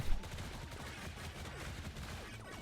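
Witch bullets firing in the bullet-heaven game Stelloop, a continuous dense stream of small popping shots and impacts at moderate level, with no speech.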